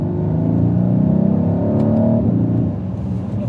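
A 2022 Mercedes GLC 63S AMG revs loudly as it downshifts to third in comfort mode, a deep, rising exhaust roar held close and steady for a few seconds before easing off.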